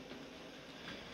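A Hornby 9F model steam locomotive runs around tight first-radius curves on a small layout, giving a faint, steady whirring rumble with light wheel clicks throughout the brief moment.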